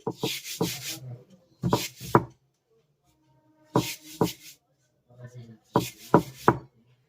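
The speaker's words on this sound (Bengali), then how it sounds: "তারপরে এইভাবে একটু কেটে লম্বা করে নেবেন" A knife cuts rice dough into long strips for chushi pitha, making close, soft rasping strokes in short clusters of two or three, separated by quiet pauses.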